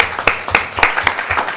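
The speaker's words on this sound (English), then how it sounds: "Let's give them all a round of applause." Audience at a city council meeting claps in a short burst of evenly spaced, sharp claps, close and fairly loud.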